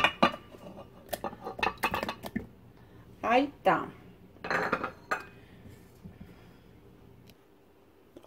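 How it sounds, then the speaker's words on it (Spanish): Pieces of fruit drop with hard clinks and knocks into a blender jar, several irregular hits up close, with a brief word spoken between them. "Ahora los voy a agregar en el vaso de la licuadora"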